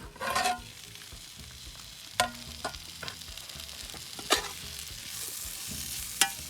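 Onions and spices cooking in a pan for a cactus sabzi, a steady low sizzle broken by several sharp scrapes and clacks of stirring, close and alone with no voices.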